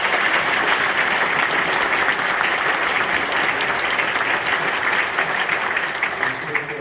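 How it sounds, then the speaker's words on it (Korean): An Easter worship congregation claps together in a full, sustained burst of applause that stays loud and even throughout, thinning slightly only at the very end. "오늘 부활하신 예수님 다시 한번 마음껏 찬양하고 박수로 응원합니다."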